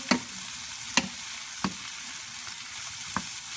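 Cauliflower sizzles and crackles steadily in a hot pan, with a few sharp pops and clicks standing out over the frying hiss.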